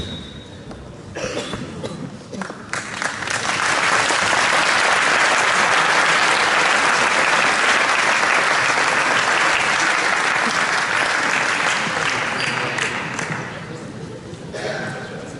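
Sustained audience applause at a coaching school training session, building to a dense, loud wash of clapping for about ten seconds before tapering off.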